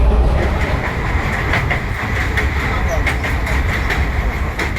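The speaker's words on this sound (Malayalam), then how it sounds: "താപ്തി നദിക്ക് മുകളിലൂടെയാണ് നമ്മുടെ ട്രെയിൻ പോയിക്കൊണ്ടിരിക്കുന്നത്" A passenger train crosses the Tapti river bridge between Vadodara and Surat, heard from onboard as a loud continuous rumble with rhythmic rail clatter and metallic clicks throughout.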